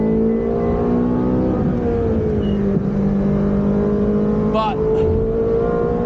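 Porsche GT3 RS sports car engine drives at a steady, droning pitch from close by, with a single brief spoken word over it.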